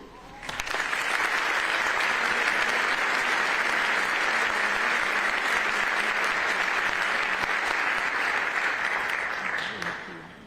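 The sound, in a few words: audience applause welcoming a speaker at a memorial ceremony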